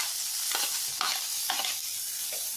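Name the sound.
green onion and carrot stir-frying in a pan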